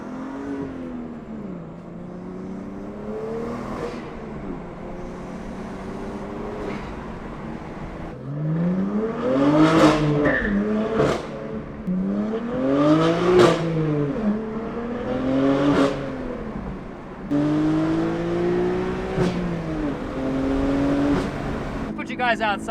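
A BMW S55 engine with a Valvetronic Designs equal-length exhaust and OEM downpipes revs repeatedly, rising and falling in sharp throttle blips that grow louder midway, with someone speaking between and over the revs.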